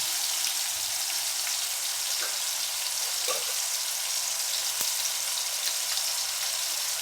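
Cabbage and tomato with curry leaves fry in oil in a pan, giving a dense, constant hiss with occasional small pops and spatula clicks, close up and with no talking.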